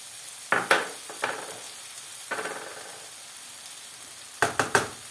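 Potatoes go into a pan of frying onions, bringing a steady sizzle with several clattering bursts as pieces drop in and are stirred around.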